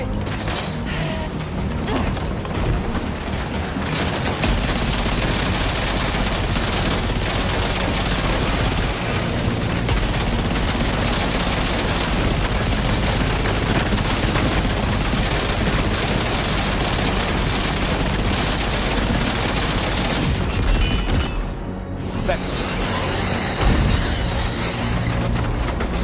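Sustained gunfire in the Death Stranding 2 video game, dense overlapping shots and mechanical clatter running almost without break, loud and continuous, with a brief drop-out near the end.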